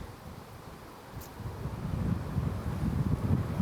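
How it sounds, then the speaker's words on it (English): Strong wind blows across an outdoor disc golf course at the Myrtle Beach Open. A low, rushing roar swells after the first second and keeps buffeting steadily, with no voices. "Man, that wind is moving."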